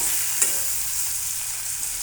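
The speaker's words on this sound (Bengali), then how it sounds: "এবার এই পেঁয়াজটাকে হাফ ভেজে নেব।" Onions fry in a pan for soybean manchurian, giving a steady close hiss and sizzle throughout with no talk.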